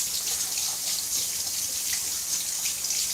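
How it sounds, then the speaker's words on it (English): Water runs steadily from a tap into a sink during dishwashing in a tiny home, a continuous close hiss and splash with no voices. "Also, a guy doing dishes is interesting."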